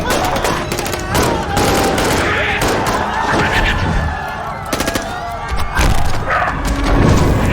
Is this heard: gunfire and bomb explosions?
yes